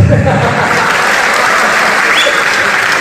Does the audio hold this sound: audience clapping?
yes